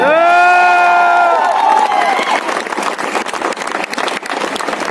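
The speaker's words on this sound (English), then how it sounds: "So clap for yourself" Students at an NITK ring ceremony let out a loud sustained group shout, then break into dense applause and scattered cheers that continue to the end.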